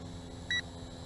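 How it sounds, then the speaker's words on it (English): A Snaptain SP600 drone remote control gives a single short electronic beep as a low-voltage warning, close and clear over a steady background hum. "I got some beeping going on the remote control."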